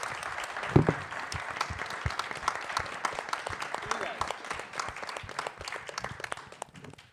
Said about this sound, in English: So you deserve a huge round of applause.